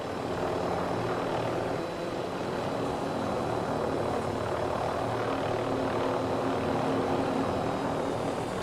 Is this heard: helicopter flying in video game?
yes